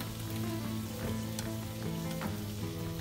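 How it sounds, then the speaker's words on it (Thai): Ham and cheese croquettes deep-frying in plenty of oil over medium heat, with a steady, dense sizzle and crackle running throughout at close range and no voices. "ใส่โครเกตลงไปทอดเลยค่ะ"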